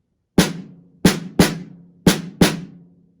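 Five crisp, loud snare drum hits land in an uneven, accented pattern, close and dry, each decaying quickly before the next strike.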